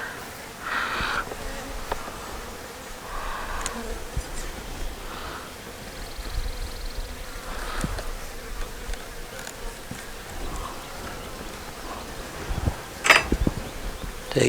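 A large swarm of honey bees hums in a dense, continuous drone, with individual bees buzzing close past now and then and a sharper burst of buzzing near the end.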